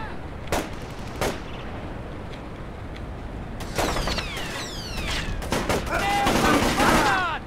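Gunfire in the stealth video game Splinter Cell: Chaos Theory, starting as two separate loud shots and then building into dense volleys with ricochet-like whines, loud and close.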